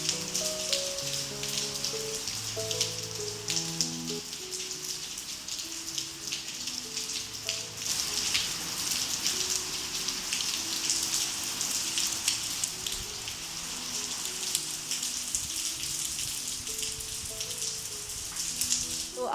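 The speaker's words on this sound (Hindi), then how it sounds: "यहाँ पे ना आज इतनी बारिश हुई है" Heavy rain pours steadily onto surfaces outside a home, a dense continuous patter with no talking, at moderate level throughout.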